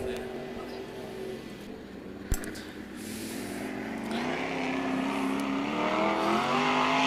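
Sprint cars race on the dirt oval at Knoxville Raceway, their engines droning steadily and rising to a louder roar, under continuous race commentary.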